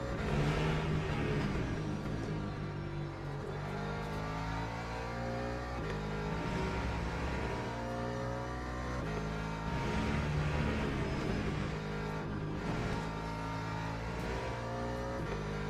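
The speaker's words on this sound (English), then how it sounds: "That BMW's overdriving like a motherfucker to try and catch back up." BMW race car engine in the racing sim Le Mans Ultimate, heard from the cockpit: a steady, loud, droning engine note rises and falls as it revs through gears, continuous for the whole stretch with no talk.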